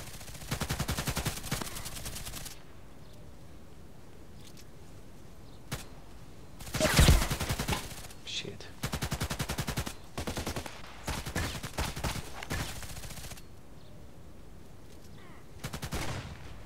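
Pistol shots fired at long range in a shooting video game, several sharp single cracks spread across the stretch with short bursts of rapid fire between quieter gaps, with a voice talking in between.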